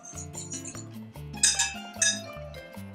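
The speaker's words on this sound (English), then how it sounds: "Using a whisk, we're just going to mix to combine." A whisk mixing dry gluten-free biscuit ingredients, flour and cream of tartar, in a mixing bowl, giving quick repeated clinking taps and scrapes against the bowl in an uneven rhythm, close and moderately quiet.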